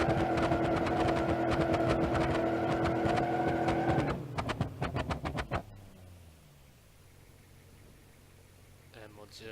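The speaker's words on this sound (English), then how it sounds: "And we'll just rev up." A 440 engine in a car revs up for a drag run in BeamNG.Drive, a steady loud drone with a rising tone that cuts off after about four seconds, followed by a brief sputter and a fading low idle.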